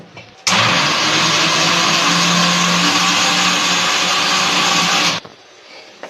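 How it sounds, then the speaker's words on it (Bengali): A mixer grinder blitzing ginger and garlic with a little water, a loud steady whirring roar that starts abruptly, runs for about four and a half seconds without a break and cuts off sharply. "দেখো এরকম ভাবে বেটে নিয়েছি মিক্সিতে।"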